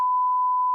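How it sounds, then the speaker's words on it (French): A single censor beep: a loud, pure, steady tone lasting under a second, heard alone with no talk. "Le deuxième bip."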